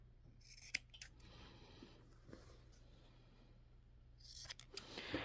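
Scissors snipping through fabric at the corners of a sewn tote bag pocket, a few short crisp cuts spread across the clip with a steady low hum underneath.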